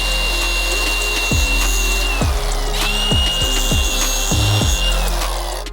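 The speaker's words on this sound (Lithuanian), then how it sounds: "vis tiek pačio bamperio kampus irgi reikia nupjauti" A power tool cuts through the plastic bumper corners on a BMW E39 530d, with a high whining motor and a series of rough, rhythmic rasping bursts as the blade bites, close and loud without any talk.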